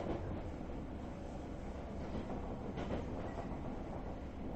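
A train in a horror video game rumbles along at a steady pace, a low continuous roar with faint rhythmic clatter, fairly quiet and with no voices.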